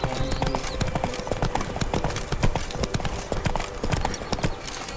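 Roach, the horse in The Witcher 3, gallops with loud rapid hoof clip-clops in a steady driving rhythm, close and continuous, with a brief whinny-like cry over the hoofbeats.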